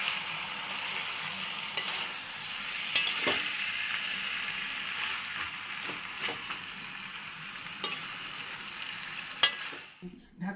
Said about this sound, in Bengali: টমেটো কুচিগুলো আমি দিয়ে দিলাম। ভালো করে একটু কষিয়ে নিচ্ছি।